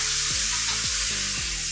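Steak sizzling in a pan with butter, thyme and rosemary, a steady close hiss of frying with a few soft scraping or basting strokes, no talk.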